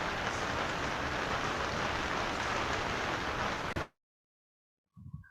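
Steady rain falls for nearly four seconds as an even, loud hiss of drops on a surface, then stops abruptly into silence before a brief low sound at the end.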